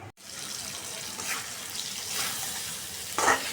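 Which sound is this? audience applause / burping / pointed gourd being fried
pointed gourd being fried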